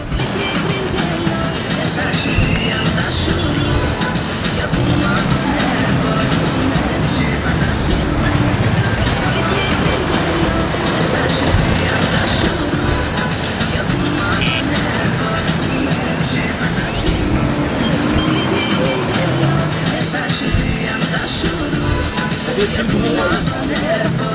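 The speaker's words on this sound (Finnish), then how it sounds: "Liikennettä on myös paljon." Dense, continuous traffic din fills a busy street in central Tirana, Albania, with engines and vehicles rumbling steadily throughout alongside crowd babble.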